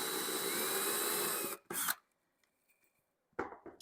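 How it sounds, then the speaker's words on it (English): A power drill drives a screw down into a hardwood floor to fix a squeak, a loud steady whir for about a second and a half, then a short second burst and a brief final spin after a quiet pause. "I'm going to screw into the floor, and you just want to go through the hardwood"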